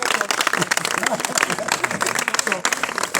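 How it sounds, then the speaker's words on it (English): An audience at a Mampong Akuapem gathering of chiefs bursts into lively, dense clapping, with people talking and calling out underneath the applause throughout. "clap"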